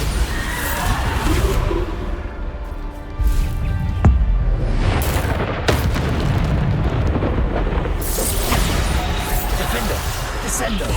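Bombarda blasting spell explosions in Hogwarts Legacy combat, a dense, loud stretch of booming blasts and crackling impacts over continuous battle noise, with a voice shouting spell names throughout.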